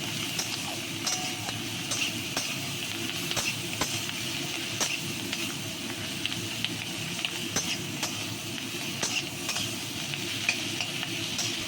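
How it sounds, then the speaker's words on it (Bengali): Fish head and pea greens cooking with spices in a pan, a steady close sizzle with frequent sharp spatula taps and scrapes as the mixture is stirred. "এবার আমি এটাকে নেড়ে সব মশলাগুলো এর সঙ্গে মিশিয়ে দেবো"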